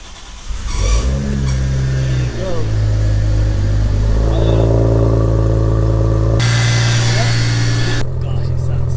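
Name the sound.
Audi A4 3.2 V6 engine starting and revving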